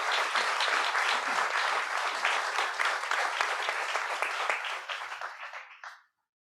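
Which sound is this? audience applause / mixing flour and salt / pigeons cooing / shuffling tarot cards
audience applause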